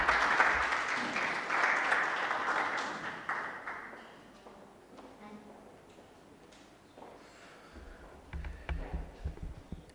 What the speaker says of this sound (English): Another round of applause for Dr. Enoch.